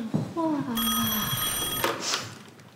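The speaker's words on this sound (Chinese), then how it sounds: "电话，电话。" A telephone rings in a dramatized home setting, one clear electronic trill lasting about a second, loud and close, with a brief voice just before it.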